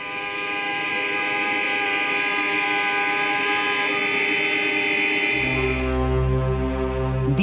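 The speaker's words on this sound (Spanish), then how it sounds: "Después protestan a bocinazos." Car horns honking together in protest in West Berlin, a dense wall of sustained overlapping blasts that swells louder and deeper toward the end.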